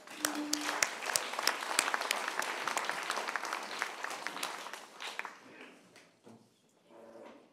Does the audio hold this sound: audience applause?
yes